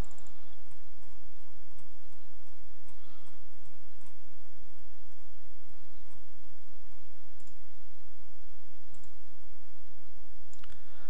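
Rapid, light computer mouse clicks repeat in uneven clusters over constant background hiss, close and fairly crisp, with no voice.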